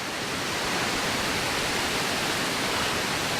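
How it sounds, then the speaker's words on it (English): Waterfall in rainy forest near Abaca Village, Fiji, a steady, dense roar of falling water filling the whole moment, close and constant with no voices. "Rainfall. Waterfall."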